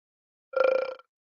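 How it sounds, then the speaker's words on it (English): A single short, resonant burp after drinking root beer, close and fairly loud, lasting about half a second against silence. "Root beer burps."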